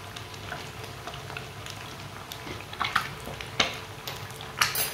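Egg and besan batter frying in a pan over a lowered flame, a steady soft sizzle and crackle with occasional sharper pops and light utensil ticks, close and moderately quiet.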